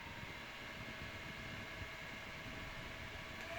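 CERIAL wearable fan running on medium speed, a steady airy whoosh with a faint motor whine, constant and close with no voices.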